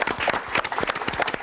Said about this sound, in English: A round of applause, please, for the gallant losers.